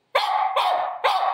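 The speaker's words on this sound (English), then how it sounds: "Minnie, stop barking." A dog barks three times in quick succession indoors in a condo, loud and close, each bark sharp with a brief sustained tail and short gaps between them, with no one talking.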